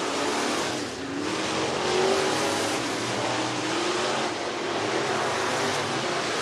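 A late model race car runs a hot qualifying lap at Talladega Short Track, its engine roaring steadily and fairly loud at mid-distance, with a broad wash of track noise and no talking.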